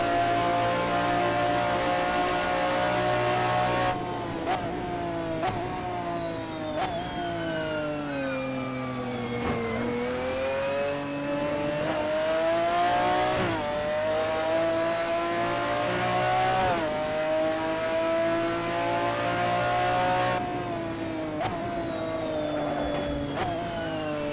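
A McLaren F1 GTR race car laps Imola in Assetto Corsa, its engine note loud and close, rising and falling through repeated gear changes and revs for the whole stretch, with no talking.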